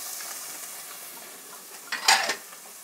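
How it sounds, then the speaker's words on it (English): Garlic and capers being stirred in a pan during home pasta-sauce cooking, a soft faint scraping with a quiet sizzle, then a brief louder clatter of utensil against the pan near the end. "we're going to stir frequently"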